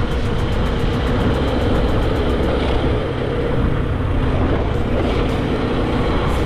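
A motorcycle rides along streets in Navegantes, SC, its engine a continuous rough rumble mixed with road and wind noise, fairly loud and steady, with no speech.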